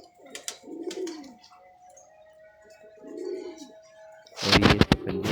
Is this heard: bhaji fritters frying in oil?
no